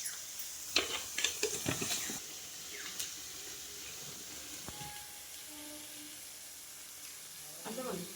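Spice masala with turmeric and red chilli powder frying in a pan for an egg curry gives a steady, soft sizzle and hiss. A few quick clinks and scrapes of stirring come near the start, then the sizzle carries on alone.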